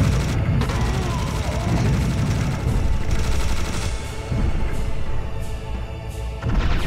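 Sustained heavy gunfire from a boss's oversized guns in Serious Sam: The First Encounter, a loud continuous barrage of rapid shots and booms lasting several seconds with no pauses.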